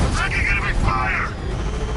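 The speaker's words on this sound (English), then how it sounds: "Under heavy fire!" Video-game gunfire crackles in quick bursts alongside mechanical clanks, with a voice talking over the shooting.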